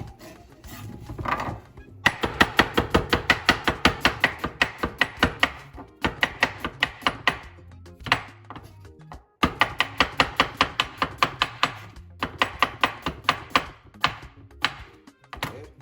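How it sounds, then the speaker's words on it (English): Onion chopped with a knife on a board, rapid even strokes in several runs separated by short pauses, close and crisp with no talking. "Cut onion."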